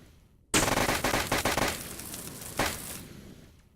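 Rapid gunfire bursts and dense exploding enemies in the video game Sunset Witch, a loud burst of shooting with layered blasts and a second explosion swell before fading.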